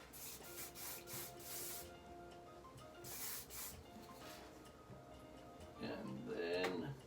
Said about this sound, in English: Just going to use a little bit of spray again.